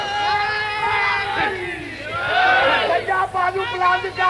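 A majlis audience shouts religious slogans in unison, with several loud bellowed waves of massed voices rising and falling close by in a crowded gathering.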